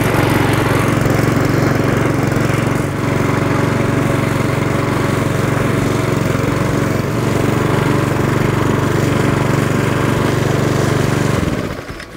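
A Cobra MM48SPH self-propelled mulching lawn mower with a brand-new engine runs steadily close by, a loud, even engine drone that holds for about eleven seconds before cutting off abruptly.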